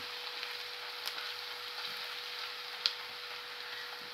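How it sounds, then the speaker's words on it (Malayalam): Masala for a beef fry cooking in oil, a soft, steady sizzling hiss with faint crackles and a couple of brief sharp ticks, fairly quiet and continuous. "ഈ മസാലയെല്ലാം നല്ലതുപോലെ ഒന്ന് മൂത്ത് വരണം"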